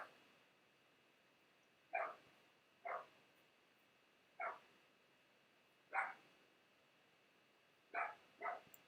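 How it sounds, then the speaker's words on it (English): A dog barks six times in short, sharp single woofs spaced a second or two apart, heard from a slight distance over quiet room tone with no talking. "Do y'all hear my idiot dog?"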